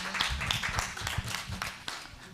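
Audience applause at a regional animal welfare training seminar, a brief burst of scattered hand clapping in a meeting room, moderately loud and a little uneven, with some low background noise under it.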